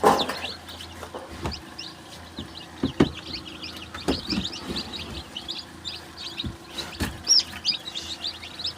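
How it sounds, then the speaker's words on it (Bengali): Farm broiler chickens clucking and cheeping in a poultry shed, many birds at moderate distance making a busy, continuous chorus of short clucks and high chirps with a few louder calls. "সব ফার্মি মুরগি"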